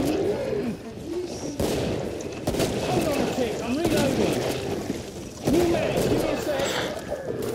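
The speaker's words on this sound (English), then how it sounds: "Jumping up and down, shooting them with a shotgun." Shotgun blasts ring out in the Killing Floor video game, with repeated loud booming shots over busy game noise and someone talking throughout.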